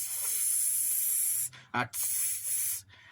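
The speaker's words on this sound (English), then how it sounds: "He wants to see, is there any gas leak?" Cooking gas escaping from a line in a home gas installation during a leak test; a steady loud hiss that cuts off briefly twice, with short gaps of quiet between bursts.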